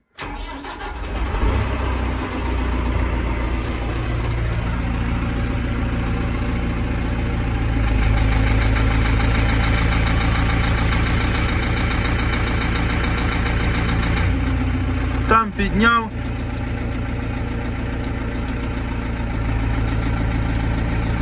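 A tractor engine cranks and starts, then idles steadily, loud and close, revving briefly near the middle before settling back to a rough, even idle.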